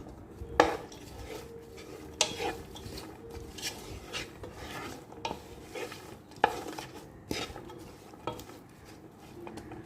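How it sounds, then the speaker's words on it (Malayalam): A spatula scrapes and clacks against a pan as Chinese fried rice is stirred and fried with salt, irregular close knocks and rasping strokes over a low background, with no talking. "ഉപ്പ് പൊടി ആവശ്യത്തിന് ചേർത്ത് നല്ലപോലെ ഇളക്കി വേവിച്ചെടുക്കാം"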